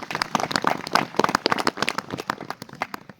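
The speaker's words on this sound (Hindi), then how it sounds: "इनका जोरदार तालियों के साथ इनका स्वागत किया जाए" Enthusiastic clapping from a crowd, dense and steady with sharp overlapping claps, fairly close and loud throughout.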